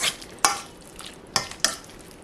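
Shredded pot roast meat being stirred and mixed with gravy, wet scraping clinks at a few separate moments over a soft, steady background hiss, close and fairly quiet.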